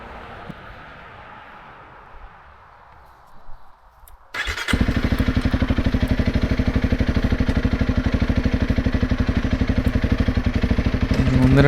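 Honda CRF 300L Rally motorcycle on an off-road single track: after a few seconds of quiet outdoor ambience and soft thumps, the engine fires up and settles into a loud, steady, close-up thumping single-cylinder drone that continues to the end.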